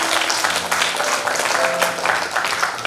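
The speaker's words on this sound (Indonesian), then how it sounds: "Kita kasih tepuk tangan dulu dong." Wedding guests at a church ceremony break into a dense round of applause, steady and close throughout the short stretch, with a voice faintly underneath.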